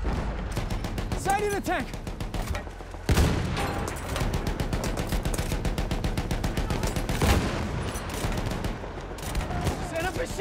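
Machine gun fire in Battlefield 1 alongside other gunshots and explosions, a steady rapid rattle of bursts throughout the battle, with a voice shouting over the din.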